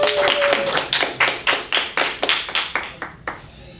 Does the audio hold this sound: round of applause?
yes